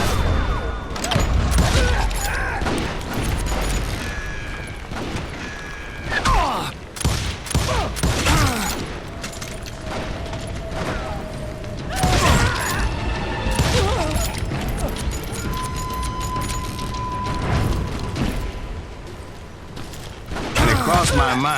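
Gunfire in the Western shooter game Call of Juarez: Gunslinger, loud repeated shots and booming blasts in a dense battle with clanks and crashes, a voice speaking over parts of the action.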